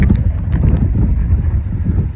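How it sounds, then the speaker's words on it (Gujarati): Strong gusty wind buffets the microphone outdoors, a loud, low rumbling roar that swells and dips continuously throughout with no speech. "વધતો જાય પવન, વધતો જાય."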